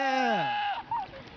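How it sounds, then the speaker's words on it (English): A goat bleats loudly and close, one long wavering cry that slides downward in pitch before breaking off, followed by a shorter wavering call. "It was a goat."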